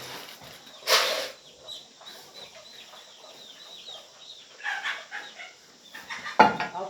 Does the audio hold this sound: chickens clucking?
yes